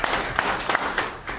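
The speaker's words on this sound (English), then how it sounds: "Give the Lord a hand clap this morning." A church congregation claps hands during a service, a dense run of clapping with a few sharper bursts standing out, close and steady for just over a second.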